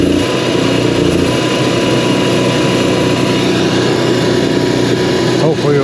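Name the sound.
Onan 4000 generator engine running after fuel pump replacement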